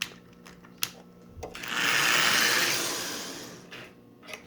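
The electric motor of a 1948 Lionel 1001 plastic toy locomotive whirs up into a steady high-pitched hum for about two seconds, then winds down, with faint clicks before and after.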